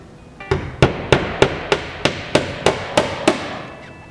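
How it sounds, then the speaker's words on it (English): Hammer drives small 8-penny nails through plywood sheathing into tall exterior wall studs on a house under construction, giving ten sharp, evenly spaced strikes about every third of a second, close and loud. "I just use a 8 penny small nail to drive into the stud to hold it temporarily"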